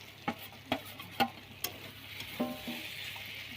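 Pre-fried potatoes tipped into cooked masala for a small-crab curry produce a faint, low sizzle broken by several sharp clinks of a utensil against the pan as the mix is stirred, quiet and close.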